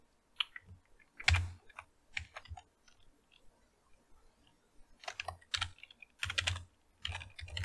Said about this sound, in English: I'll just figure out how to actually type this in.